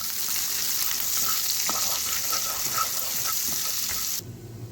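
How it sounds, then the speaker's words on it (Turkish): Walnuts frying in melted butter in a pan, a steady close sizzle with light stirring clicks, cutting off abruptly near the end. "Sosumuz için tavamıza tereyağımızı aldık. Tereyağımız eridikten sonra cevizlerimizi alıyoruz."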